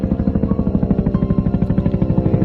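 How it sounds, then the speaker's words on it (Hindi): A cartoon helicopter flies off, its rotor chopping in a steady, loud rhythmic thump that holds evenly throughout with no speech. "यल्लू, मल्लू और बाबा तीनों हेलीकॉप्टर में बैठते हैं और चले जाते हैं।"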